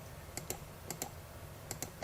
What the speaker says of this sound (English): again I am typing line